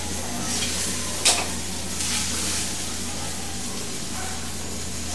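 Shredded cabbage frying in a pan as a Bangladeshi bhaji, a continuous close sizzle with one sharp clink of stirring early on and faint spatter throughout.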